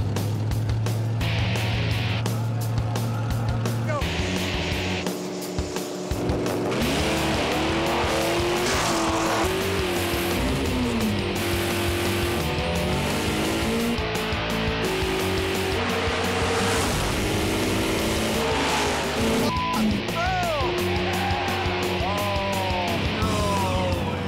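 Drag race cars, including a Mitsubishi, launch and roar down the strip at Tucson Dragway, loud engine revs rising and shifting with tire squeal, sustained and close throughout.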